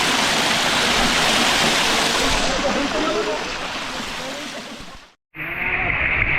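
Loud, roaring rush of Talon Pari Falls waterfall in Bulacan, a dense continuous wash of falling water up close, cut off by a brief silence near the end before resuming.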